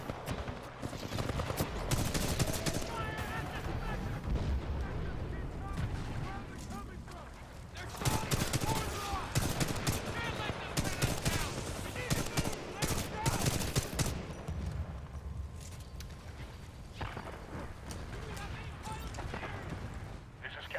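Sustained gunfire and explosive blasts from Titanfall 2 combat in a jungle area, with dense, continuous volleys of shots booming throughout and someone talking over parts of the fighting.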